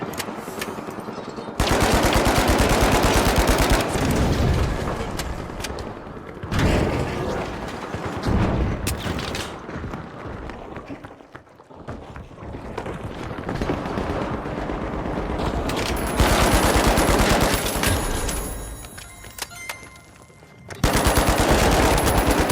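Automatic weapons fire in rapid bursts and sustained strings of shots during a match in the video game The Finals, loud and close, with short pauses and mechanical clatter between volleys.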